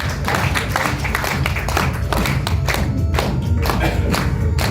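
An audience at a business seminar claps together, a dense, loud and steady round of applause lasting several seconds with some rhythmic accents.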